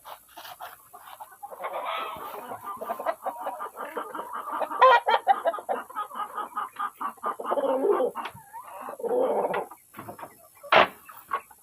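Several chickens, about three roosters and two hens, cluck and murmur near the listener in a busy, uneven stream of short calls, with one sharper squawk near the end.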